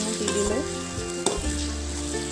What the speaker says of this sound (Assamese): এইখিনি মই ভালদৰে মিক্স কৰি দিলো